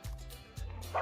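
Dogs at a dog socialization center let out a couple of short, close yips and barks in quick succession, with a faint whimpering quality.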